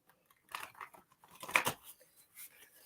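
Tarot cards are shuffled for a psychic reading, a close, irregular burst of riffling and flicking snaps with brief gaps, loudest in the middle.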